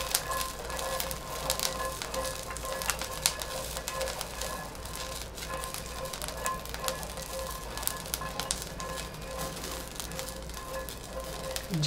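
Garlic sizzling in a spoonful of hot oil for Maharashtrian thecha, a continuous soft crackle and spit that is fairly faint and close, with no voices.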